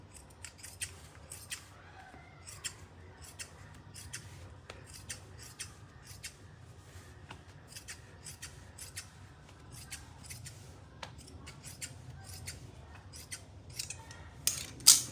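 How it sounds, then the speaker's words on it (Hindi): Scissors cut fabric for a belted salwar, with a long run of crisp, evenly spaced snips close by over a quiet room hum, ending in a louder final clack. "अब हम इसको सेंटर से भी काट लेंगे।"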